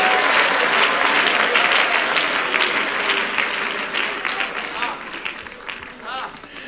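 A Pentecostal congregation claps in worship during a church service, sustained loud applause that gradually thins and softens, with voices calling out beneath it.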